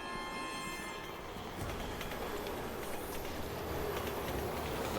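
A metro train rolls past in the video game Resident Evil 6, a steady broadband rumble that holds loud for the full stretch, with high whining tones at the start. No voices are present.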